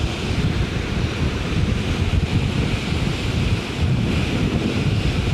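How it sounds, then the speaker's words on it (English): Heavy rushing water from the main waterfall on the Isle of Skye, swollen after days of heavy rain, roars as a dense, continuous wash with some wind buffeting the microphone, steady throughout and without speech. "That's the main waterfall, and that's well, obviously there's been so much rain lately that it's terrific watching it, the power."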